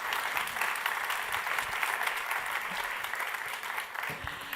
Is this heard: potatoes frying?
no